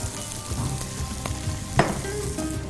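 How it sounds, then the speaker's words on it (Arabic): Onions frying in a pan over a wood-fired stove, a steady sizzle with occasional scrapes and a sharp clatter near the middle, fairly close and without any talking. "خليني اطولك على الشوله عشان نحمر البصل"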